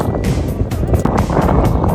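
Strong wind blows at the seashore, a loud, constant roaring rush buffeting the microphone with gusty surges throughout.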